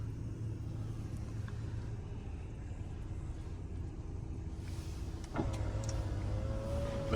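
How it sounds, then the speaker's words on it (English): Rear power window of a 2021 Audi A5 Sportback motoring down late in the clip, a rising whine over a steady low cabin rumble, near and moderately loud. "the rear window does not go all the way down"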